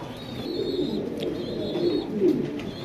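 A pair of white Danish pigeons coos close by, soft low rolling coos repeating three times over a faint steady background hiss.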